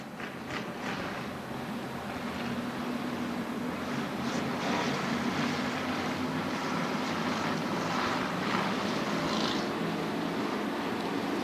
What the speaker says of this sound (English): That's a whole lot of 602 crate engines trying to clear their throats right now,